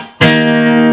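Guitar strummed in a full strumming pattern, a single loud ringing chord struck sharply and left to sustain for under a second, close and alone.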